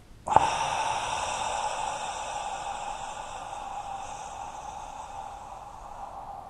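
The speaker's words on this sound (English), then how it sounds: "Breathe in. Hold it. Breathe out." Deep power breathing exercise, a sharp onset followed by a long steady breathy exhale that slowly fades, close and alone with no talking.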